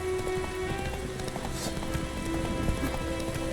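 Roach, the horse in The Witcher 3 video game, gallops with a fast, continuous clatter of hooves that blends into a dense wash of game ambience and music, loud and steady throughout.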